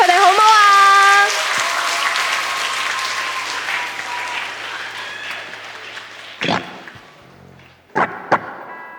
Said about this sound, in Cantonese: 大家俾啲掌聲佢哋好唔好啊